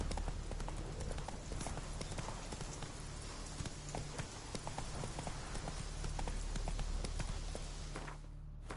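Roach, a horse in The Witcher 3, galloping in a steady rapid clip-clop of hooves that runs continuously and close, ending abruptly near the finish.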